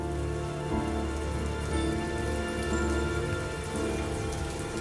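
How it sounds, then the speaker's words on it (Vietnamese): Rain and wind storm, the kind used as an audiobook effect, with rain blown in through a window: dense, steady rainfall drumming on surfaces, an even wash of close patter that continues with no voices. "từng đợt nước mưa hất vào khiến cả sàn nhà đều ương ướt"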